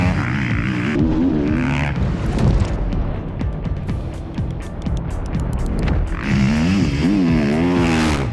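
Ducati Desmo450 MX factory motocross bike engine revving loudly and steadily, with rising and falling pitch sweeps near the start and again toward the end, close and continuous.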